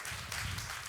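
An audience at a TV formats showcase breaks into a dense, steady round of applause, many hands clapping together with no voices over it.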